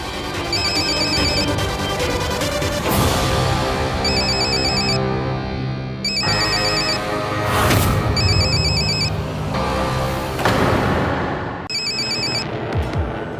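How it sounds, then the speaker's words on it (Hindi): A mobile phone rings repeatedly with a bright electronic ringtone in repeating bursts, loud and close, over a busy background of music and room sound. "तेरा फोन बज रहा है क्या?"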